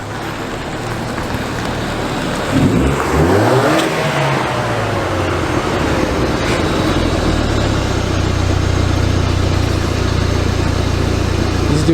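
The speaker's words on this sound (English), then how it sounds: "This dude has no muffler. It's run like shit, bro." A junkyard-find diesel truck running with no muffler, its rough, loud exhaust steady throughout and picking up sharply in a throttle surge a few seconds in, then settling into a heavy, uneven rumble.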